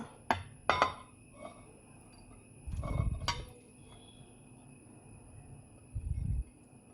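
Beetroot and carrot pieces dropped into a bowl, with a couple of sharp clinks and clatters near the start, a heavier thud in the middle and another soft drop near the end, close and unaccompanied by speech.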